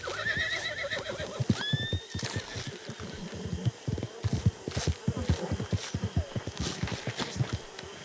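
Horse in the Red Dead Online video game whinnying loudly twice, with a sequence of hoofbeats clattering rhythmically through the rest, close and clear.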